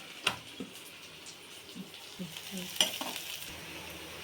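Onions frying in a pan for boti curry, with a few sharp spoon scrapes as they are stirred over a soft, steady sizzle; fairly quiet and close, with no talking.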